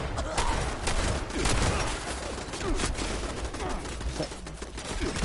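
Automated turrets rattle off dense, continuous gunfire in Fallout 76, a loud steady burst of rapid shots under a rumbling low end that lasts the whole stretch.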